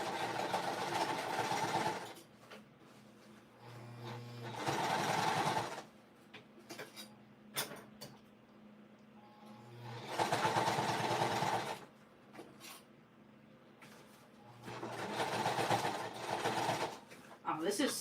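A sewing machine stitches a bag in repeated bursts of rapid mechanical whirring, each lasting a couple of seconds, separated by pauses with softer handling noises, close and fairly quiet.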